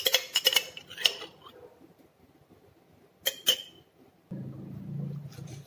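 A spoon stirs purple cabbage salad with mayonnaise in a bowl, giving a few sharp close clinks and scrapes, then a quiet pause, more clinks and a low rustling churn.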